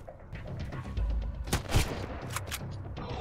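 Gunfire in the survival shooter Sunkenland during an outpost assault: several sharp shots crack out, the loudest pair landing close together near the middle, over a low rumbling background.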